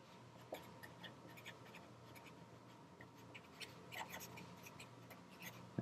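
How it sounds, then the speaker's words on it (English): Chalk or marker writing on a board, with faint scratchy strokes and small taps in a quiet room and a soft background hum. "And I'm going to write this out."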